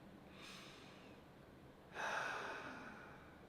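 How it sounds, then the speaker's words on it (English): A slow, deep breath taken during a calming breathing exercise: a soft inhale followed by a stronger, airy exhale in quiet surroundings, close and alone with no talking. "Deep breath."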